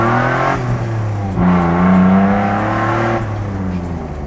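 A supercharged Jeep Wrangler JK accelerates, its engine rising in pitch in loud, close surges, easing off briefly and then building again, with no talking.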